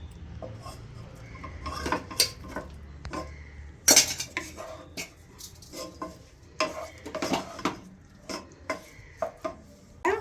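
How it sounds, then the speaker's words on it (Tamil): Cooked rice being stirred into lemon rice seasoning with asafoetida in a pan, with repeated scraping and clinking of a metal spoon against the pan and a faint sizzle, close up with no talking. "சாதத்தை போட்டு கலரிப்போம்"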